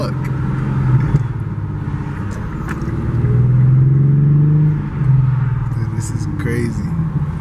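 A modded 2015 Infiniti Q50 with a 3.7L engine and muffler delete gives a deep rumbling idle that swells into a couple of revs, loud and close, with a voice speaking over it.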